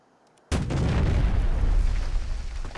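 An Me 262 jet's 5cm cannon in the video game War Thunder fires after a short silence, giving a sudden heavy boom followed by a dense, rumbling barrage of blasts that continues loud to the end.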